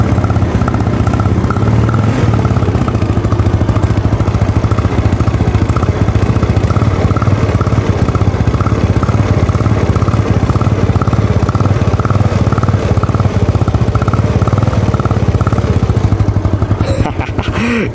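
A 2008 Yamaha Mio Sporty automatic scooter with a troublesome idle runs its engine and exhaust steadily at close range, giving a loud, continuous throbbing drone that holds even throughout.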